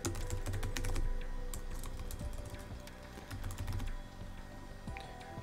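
Rapid typing on a computer keyboard, with quick clusters of sharp key clicks and short pauses, close and clear, with no speech.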